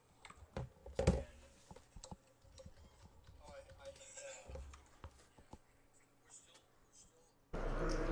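Keys clicked on a computer keyboard during a poker tournament, a scattering of quick taps amid room noise and voices talking nearby, ending in a louder burst of noise.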